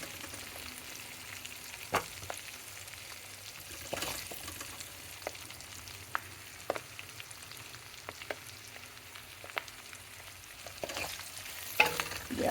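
Two red chillies fry in a pan for gongura pickle powder, making a soft, steady sizzle with sharp clicks and taps of stirring scattered throughout and no one talking.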